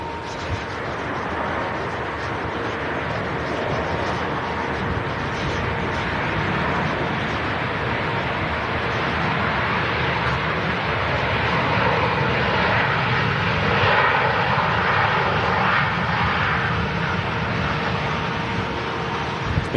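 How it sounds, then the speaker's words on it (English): A Ryanair airliner arriving from Brussels touches down, a loud, sustained broadband jet roar that holds steady and swells slightly in the middle before easing off. "touching down from Brussels."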